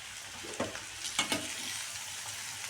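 Chopped potatoes sautéed in a pan while making dosa: a steady sizzle of frying runs throughout, with a few sharp scraping stirs of the spatula standing out near the start and middle, close and moderately loud.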